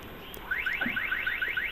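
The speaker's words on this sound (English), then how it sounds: "That sounds like a car alarm going off." A car alarm going off at a heavy horse centre car park on a windy day, a repeating rising electronic whoop cycling rapidly at moderate distance over wind noise.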